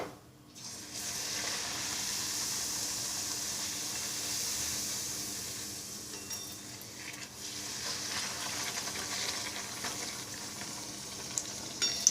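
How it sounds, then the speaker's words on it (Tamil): Steady, loud sizzling of poori dough frying in hot oil, a continuous crackling hiss that holds for several seconds with no talking. "அது மாதிரி பூரி இட்ட உடனே இட்டு வச்சுட்டு டக்குன்னு பொரிச்சிடுங்க."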